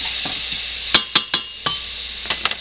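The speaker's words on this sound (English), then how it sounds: "give this a stir again. It's cooking nicely" A spaghetti squash omelette stirred in a pan with a utensil, giving a few sharp scraping clinks against the pan over a steady sizzle of cooking.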